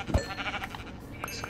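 Sheep bleating in the Minecraft video game: a quick nasal bleat near the start, then a couple of fainter, shorter bleats over a steady game background.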